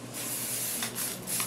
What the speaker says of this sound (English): I'm gonna take my hairspray and spray her all over